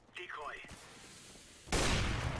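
Loud gunfire bursts in the video game CS:GO, starting abruptly and sustained near the end, following a stretch of quieter game sounds and a rising-falling electronic tone.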